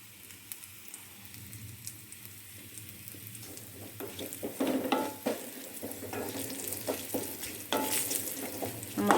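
Chili powder being stirred in a hot pan for Kerala moru curry, a steady crackling sizzle with scraping strokes that grows louder after a quiet start, close and unaccompanied by speech.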